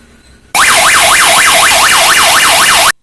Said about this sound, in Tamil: இதை லாங் பிரஸ் பண்றதன் மூலமாக உங்களுக்கு சைரன் சவுண்ட் வந்து கேட்கும்.